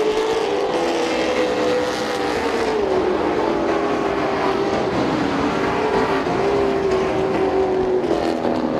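Race cars at the Speedzone track roar down the back stretch in a sustained, loud engine drone whose pitch drifts slightly as they pass, continuous for several seconds.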